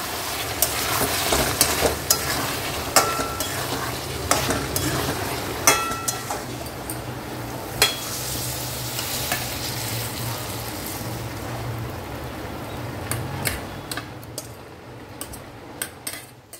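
Vegetables sizzle and fry in a pan on a home kitchen stove while a utensil stirs them, with repeated scraping and clinking taps over a steady sizzle, close and fairly loud, no talking.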